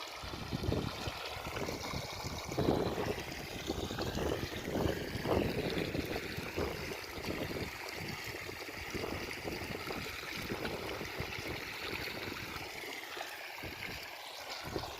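Irrigation water flows steadily into a chickpea field, a continuous rushing trickle that stays fairly even throughout with no voices.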